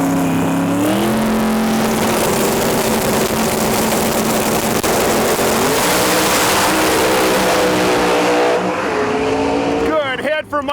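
Pro Mod drag race cars, a Chevelle and a Lexus RCF, roar at full throttle off the line with a loud, rising engine note and a shift, then fade as they pull away, with commentary over the top.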